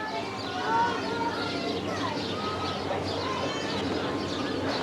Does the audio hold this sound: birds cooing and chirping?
yes